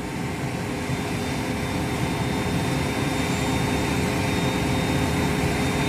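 Cessna Citation 560 jet engine running just after its start sequence ends, a steady, loud broadband roar with a faint high whine, continuous and unchanging throughout.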